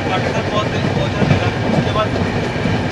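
A train rolls across the rail bridge over the Brahmaputra river, a loud, steady rumble of wheels and carriages heard from onboard, with faint rhythmic clatter throughout.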